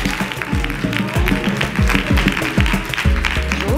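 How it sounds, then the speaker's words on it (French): At a conference on hair and braiding, the assembled audience applauds, a steady crowd of clapping mixed with pulsing background music and a low thumping beat throughout. "Je vous demande de vous applaudir tous"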